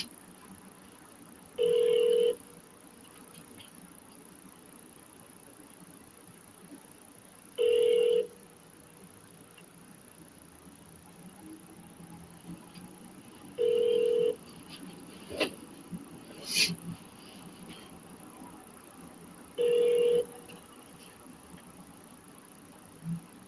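Phone call dialed back to a missed caller: four evenly spaced bursts of ringback tone about six seconds apart, with faint clicks and handling noise between them and no talking.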